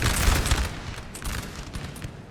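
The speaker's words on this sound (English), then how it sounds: "Artillery pounding in there." Crackling volleys of musket fire mixed with deep artillery booms roll through a Napoleon Total War battle at Fuengirola in 1810, dense overlapping shots, loud and continuous with no voices.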